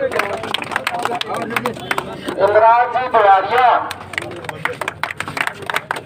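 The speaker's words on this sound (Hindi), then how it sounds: "आप लोग ताली बजाते रहे" An audience at a village gathering breaks into a short burst of clapping beneath a man reading names over a loudspeaker, the applause swelling briefly then fading under his voice.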